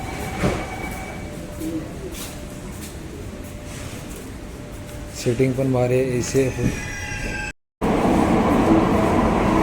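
A Mumbai underground metro train runs at speed, a steady rumble and rail hiss filling the car while a passenger talks over it, with a brief dropout before the noise returns louder.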